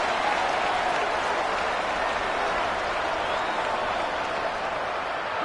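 A stadium crowd cheering on third down at an Ole Miss vs Oklahoma college football game, a loud, sustained roar of voices and clapping that holds steady throughout.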